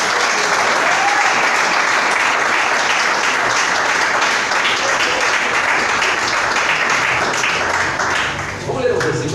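A church congregation at a couples' worship service breaks into loud, sustained applause, a dense wash of clapping with cheering voices that holds steady for several seconds before easing slightly at the end.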